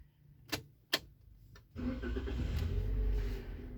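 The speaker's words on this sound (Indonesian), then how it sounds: "lalu hidupkan mesin" A Toyota car engine cranks and catches in a workshop during ABS brake system practice, after a couple of sharp clicks, then settles into a steady, fairly close idle.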